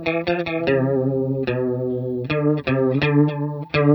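Clean electric guitar through a Boss CH-1 Super Chorus pedal, with strummed chords ringing out loud and shimmering, and several fresh strums spread across the passage.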